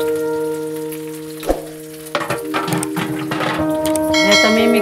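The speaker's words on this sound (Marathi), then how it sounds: "आता त्याच्यामध्ये मी हा टोमॅटो टाकणार" Chopped tomato dropped into a pan of frying garlic and onion for a spicy Malvani mackerel chutney, giving a sudden loud sizzle that keeps crackling close up, with a few clinks of a utensil.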